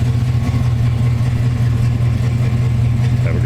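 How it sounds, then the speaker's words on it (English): A 1968 Chevrolet G10 panel van's 350 four-barrel V8 with TH350 automatic, engine cover closed, holding a loud, steady low rumble that stays constant throughout rather than rising into clear revs. "we're going to give you a little rev with the engine cover closed"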